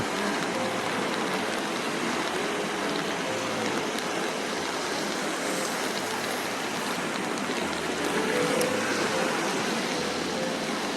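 Steady rain and sea waves on Gwangalli beach form a continuous, even wash of noise with no clear individual sounds.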